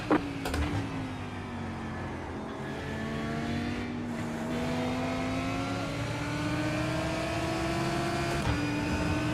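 Race cars in the iRacing sim, a continuous close engine drone with rising and falling pitch as gears shift and other cars pass, alone without talk.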